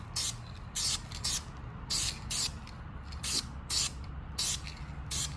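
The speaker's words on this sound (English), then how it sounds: "Let's do this final coat of primer and just paint it." An aerosol can sprays a coat of primer on a car's rear end in short bursts, about nine quick hissing passes in pairs with brief gaps between them, close and fairly loud.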